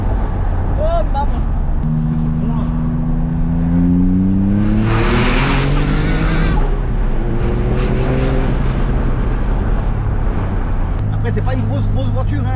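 A Porsche 911 996 Turbo pulls hard from inside the cabin, engine note climbing steadily through the gears with a brief shift break, loud and continuous under excited talking.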